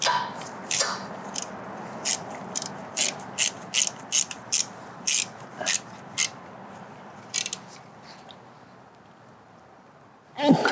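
Ratchet wrench tightening a bolt under the hood of a 2009-2013 Audi A4 B8, a long run of quick clicking bursts in uneven groups, fairly close, with low background noise and a louder thump at the end.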